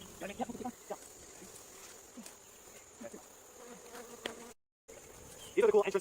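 Honeybees hum and drone continuously around a hive under treatment with ventilation shims added, a close buzzing bed with scattered light knocks and handling noises, then a louder burst near the end.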